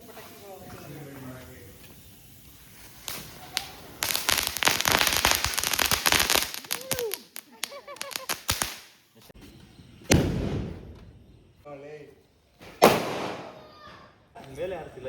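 Rapid strings of firecrackers burst loudly in clusters during a Tulasi festival celebration, followed by a few separate bangs, with people talking between the explosions.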